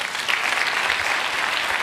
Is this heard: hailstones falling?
no